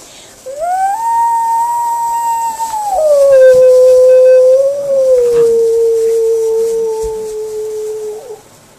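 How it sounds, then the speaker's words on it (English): A dog howls in a long, sustained, wavering tone that rises, holds, then slides lower and trails off, loud and close. "Can we get a howl?"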